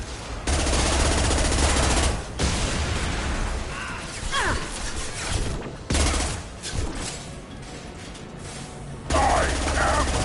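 Gunfire aimed at a loosening fuel tank in Mass Effect 2 Remastered, rapid automatic bursts rattling loud and close in several volleys, with shouted voices in between.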